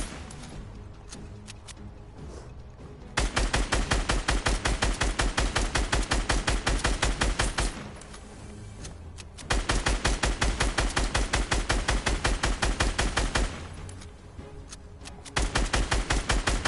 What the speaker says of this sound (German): Ich schieße jetzt außen nur rum.